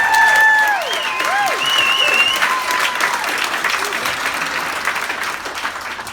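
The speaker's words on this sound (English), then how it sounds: "I think you can get another round of applause there." An audience claps warmly after a live flute performance, a sustained round of applause heard up close with a few faint whistling tones at the start, steady and then tapering slightly.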